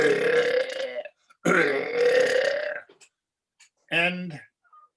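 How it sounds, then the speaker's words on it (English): A person burps loudly several times, with long, drawn-out belches near and dominant, followed after a pause by a shorter, voiced burp. "it takes a skill to burp"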